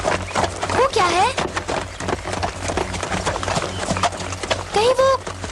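A horse carrying a boy in an animated Cinderella episode clip-clops steadily and close, its hoofbeats mixed with short rising whinny-like calls and busy background sound throughout.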